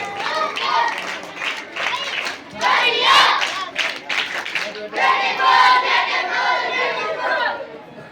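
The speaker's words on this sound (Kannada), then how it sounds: "ಜೋರಾಗಿ ಚಪ್ಪಾಳೆ ಮೂಲಕ ಅವರಿಗೆ ಮತ್ತೊಮ್ಮೆ ಅಭಿನಂದನೆ" Loud applause and crowd chatter for honorees at an anniversary celebration and honouring ceremony, a sustained wash of clapping and voices filling the whole stretch.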